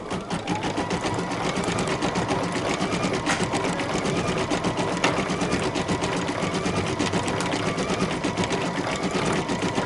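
An embroidery machine stitching a decorative edge, its needle hammering in a fast, even, continuous rhythm, loud and close with no voices.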